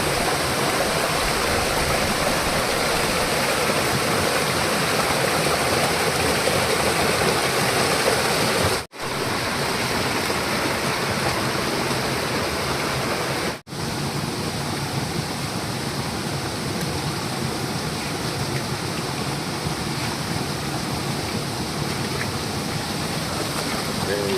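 Steady, dense rush of a waterfall fills the whole stretch, loud and close, with two brief dropouts partway through.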